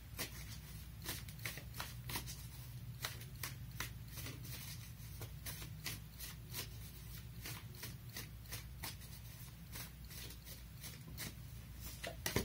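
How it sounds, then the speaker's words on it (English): Tarot cards are shuffled by hand in a steady run of quick, crisp riffling flicks, close and fairly quiet, continuing for several seconds over a faint low hum without speech. "Let's pull some cards from the universe for you."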